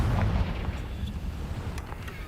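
A Confringo blasting spell bursts in Hogwarts Legacy as a single heavy, rumbling explosive boom up close, with crackling debris trailing off over the next two seconds.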